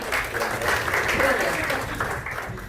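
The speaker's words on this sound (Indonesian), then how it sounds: "Luar biasa Bapak Ibu, tepuk tangan buat Anda semua." An audience claps at a sales leadership event, a full round of applause close by with a voice speaking over it.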